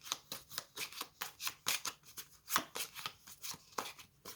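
Tarot cards are shuffled in quick riffling bursts, a rapid series of crisp flicks and snaps close by, with no talking.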